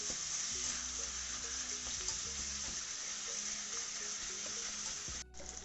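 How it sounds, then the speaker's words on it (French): Minced meat being stirred into a sauce for meat lasagne, a steady close sizzle with soft scraping of the spoon running throughout, briefly dipping near the end. "On va bien mélanger pour éviter qu'elle ait des grumeaux."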